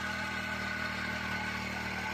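Four-stroke petrol mini weeder engine running steadily with a continuous, even drone and faint mechanical hum at constant loudness, no talking.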